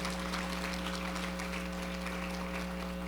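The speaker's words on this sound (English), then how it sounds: "you have to give Orville a better clap than that" Audience clapping at a corporate annual awards ceremony, steady scattered applause at moderate volume over a constant electrical hum, with no one talking.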